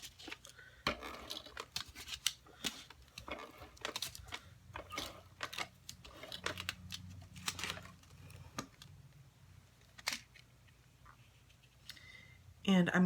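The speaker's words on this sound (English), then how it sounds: "I'm just going to cut some of this off." Scissors snip scrap paper while making a Stampin' Up! shaker card, a series of close, sharp irregular cuts with soft handling noises between them and a voice talking intermittently.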